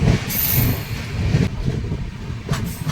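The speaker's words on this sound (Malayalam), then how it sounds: "നമ്മുടെ ട്രെയിൻ നിർത്തിയതിന് ശേഷം വീണ്ടും സ്റ്റേഷൻ പിന്നിടുകയാണ്" A train on the Konkan Railway pulls away past a station, rolling with a rhythmic, low clatter of wheels on track, punctuated by a few sharp hissing bursts.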